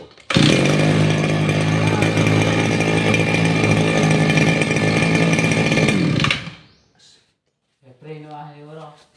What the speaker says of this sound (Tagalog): tunog ng grass cutter.